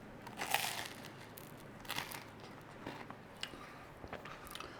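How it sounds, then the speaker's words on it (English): Crunchy garlic butter French bread pizza with sauce and pepperoni being bitten and chewed, close and fairly quiet, with a sharp crunch at the start followed by a few softer crunches and chewing sounds. "Nice crunch through there, look."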